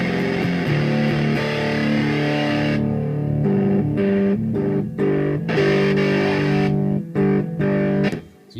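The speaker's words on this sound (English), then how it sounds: "you've got a really fuzzy sound going" Thick, buzzing electric guitar through a fuzz pedal playing sustained chords that cut off abruptly between strums, loud and saturated, no voices.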